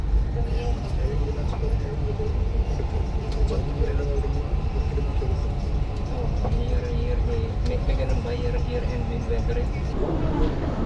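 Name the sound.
metro train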